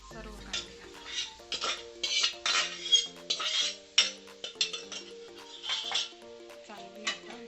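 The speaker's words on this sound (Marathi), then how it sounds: "अशी थोडी कारली घालून घ्यायची आणि अशी त्या कांद्यात परतायची." Bitter gourd pieces being stirred into onions in a pan give irregular clinks and scrapes of a metal spoon against cookware, with soft sizzling between the knocks.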